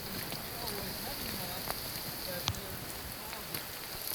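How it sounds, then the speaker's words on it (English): Heavy rain falls on a mountain trail in the Sandia Mountains during a thunderstorm, a steady dense hiss of drops with occasional sharper taps close by, continuous throughout. "The rain hasn't let up much. It's increasing."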